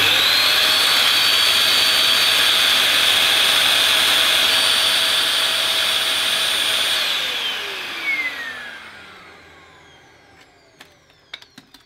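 A Vax Power Reach handheld vacuum cleaner, clogged with sand, whines loudly with a steady high-pitched motor drone, then spins down, fading out with a few small clicks.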